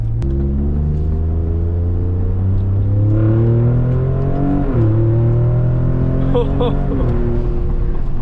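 A loud Raptor pickup truck engine with an upgraded exhaust revs up steadily, then drops pitch sharply with each downshift, the exhaust rumbling close by.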